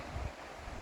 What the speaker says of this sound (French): même s'il y a un petit peu de vent, écoute, c'est pas mal du tout.